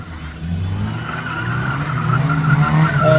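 A stunt Mini's tires skid and squeal at Brands Hatch during a Mini festival auto-testing display, a sustained screech over engine noise that grows slightly louder across the short stretch.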